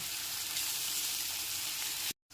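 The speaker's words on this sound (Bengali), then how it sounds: "2 থেকে 3 মিনিট ধরে আদা, রসুন, কাঁচা লঙ্কার পেস্টটা পেঁয়াজের সাথে খুব ভালো মতো একবার কষিয়ে নেব" Ginger, garlic and green chilli paste sautéing with onion for Bengali aloo dum, a soft steady sizzle that cuts off abruptly near the end before resuming faintly.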